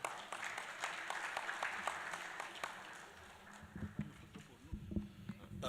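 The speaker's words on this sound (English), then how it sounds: "je voudrais que vous applaudissiez très fort nos intervenants" Audience applause for panel speakers at a conference on unconstitutional changes of government, a steady patter of clapping that fades toward the end as quieter sounds and a voice come through.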